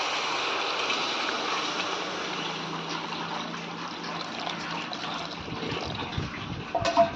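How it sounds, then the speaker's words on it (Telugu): Tamarind juice poured into a pan of spiced oil for agakarakaya pulusu makes a continuous close liquid rush and sizzle, easing slightly before a few clatters at the end. "ఇది చింతపండు పులుసు వేస్తాను"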